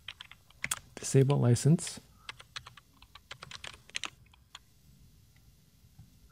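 Computer keyboard typing in a quick series of sharp, separate clicks, close and clear, with a brief spoken phrase breaking in early on.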